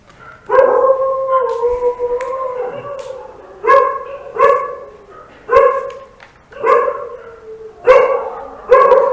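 A dog howls and barks in drawn-out, wavering calls repeated roughly every second, loud and close, with no talk over it.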